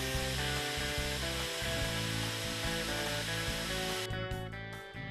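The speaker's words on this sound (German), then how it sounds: "Präzises Bohren im Winkel von minus 45 bis plus 45 Grad." A steady, loud motorized whine of a power drill mounted in a Wolfcraft Tecmobil drill stand runs continuously, with a harmonic hum that shifts slightly before the motor winds down near the end.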